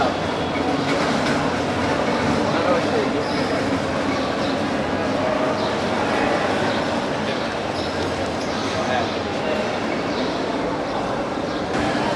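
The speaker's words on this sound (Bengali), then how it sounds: "আমাদের ট্রেন দাঁড়িয়ে আছে আট নম্বর প্ল্যাটফর্মে মহানগর গধুলি" The Mohanagar Godhuli Express on a busy station platform, with a steady, loud rumble of rail cars and a dense crowd murmuring throughout.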